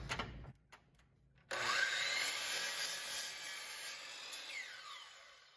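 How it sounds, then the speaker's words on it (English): A miter saw spinning up and slicing through wooden truss pieces, a short motor bump first, then a sudden sustained whine as the blade bites into the wood, fading near the end with a brief restart. "I can just take these over to the miter saw and cut them very quickly and easily"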